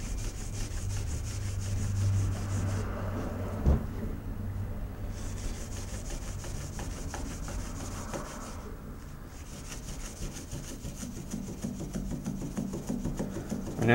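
A Scotchbrite pad rubs along a knife blade near its thin, holed tang, giving a steady, close scratchy rasp of repeated strokes with brief pauses.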